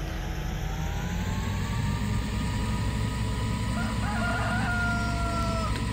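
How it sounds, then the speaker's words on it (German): A rooster crows in Landwirtschafts Simulator 2013 over a steady farm-machine drone, its drawn-out calls repeating clearly in the foreground with no speech. "Du blöder Hahn, ey."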